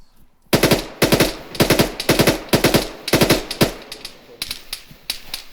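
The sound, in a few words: gunfire in ArmA 3 video game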